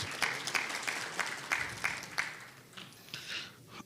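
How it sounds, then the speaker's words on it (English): Audience at a customs trade conference claps in a fairly quiet, distant burst, with sharp rhythmic claps standing out in a regular beat that loosens and fades near the end. "A hearty clap for GIZ."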